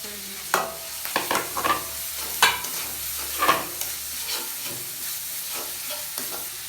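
Garlic paste sizzles with onion paste in a hot pan for a brinjal and rohu fish curry, with a steady fry under uneven bursts of spatula scraping and stirring, close and fairly loud.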